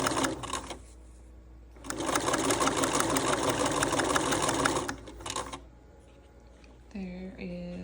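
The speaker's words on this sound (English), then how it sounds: "I'm going to take it over to the sewing machine, and I'm going to stitch a stitching line along each edge" A sewing machine stitching along fabric edges, two bursts of fast rhythmic needle clatter, the longer one lasting about three seconds, with a brief voice at the end.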